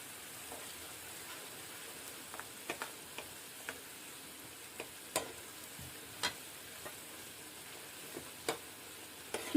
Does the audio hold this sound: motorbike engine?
no